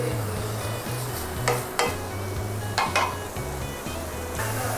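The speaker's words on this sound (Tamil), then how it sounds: "பட்டர் நல்லா ஸ்ப்ரெட் ஆனோன்னே நம்ம மேரினேட் பண்ணி வச்சுருந்த சிக்கனை வந்து போட்டிருக்கோம்" Marinated jerk chicken frying in melted butter in a pan gives a steady sizzle with a few sharp stirring or scraping bursts, heard over a low, rhythmic musical backdrop.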